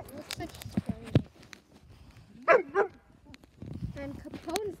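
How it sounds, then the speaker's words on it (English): A dog barking outdoors in a yard, a few loud single barks spread through, with people talking over and between them. "the one that's barking. You guys can hear it."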